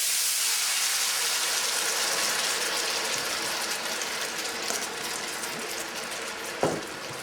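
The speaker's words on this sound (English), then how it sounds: "So what I'm going to go ahead and do is throw in the vegetables." Marinated peppers, mushrooms and green onions sizzle in a hot stir-fry pan for chicken lo mein, a steady loud hiss throughout with a brief clatter near the end.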